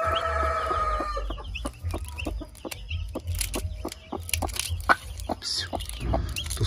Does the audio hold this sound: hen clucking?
yes